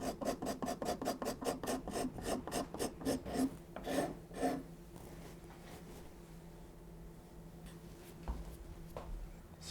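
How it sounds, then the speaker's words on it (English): A coarse rasp files a wooden guitar neck with rapid, close rhythmic scraping strokes, loud and even at first, then easing into softer, slower rubbing with a few scattered strokes. "Then I'm going to come in with my coarse rasp"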